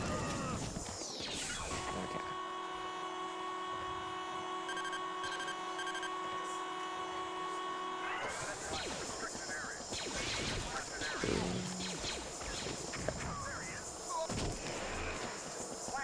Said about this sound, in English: I can use the concussion rifle to give myself a little extra boost